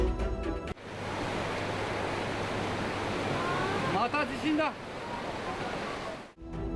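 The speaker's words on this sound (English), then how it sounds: "a river flooded and washed away an entire bus" Floodwater from an overflowing river rushing in a loud, continuous roar, broken by a brief burst of higher sounds partway through, with short snippets of other audio at the start and end.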